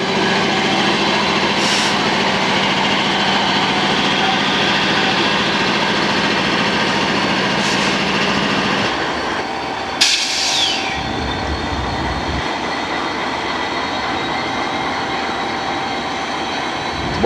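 Three CN and two Norfolk Southern locomotives passing on a rail line, a loud, close, continuous engine roar and rumble of rolling stock that shifts and thins partway through, with no voices.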